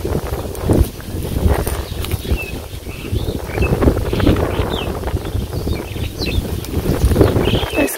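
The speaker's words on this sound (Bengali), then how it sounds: "আজকে বাতাস আছে ভালো।" Strong wind blows outdoors in a village, buffeting the microphone with a loud, continuous low rumble and gusts that rise and fall throughout.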